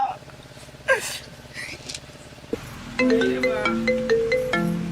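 A phone ringtone plays a repeating melodic pattern of bright electronic tones, loud and clear. Before it starts, background voices and a muffled scene run beneath.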